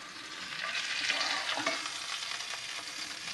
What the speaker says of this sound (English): Just going to take that out of the pan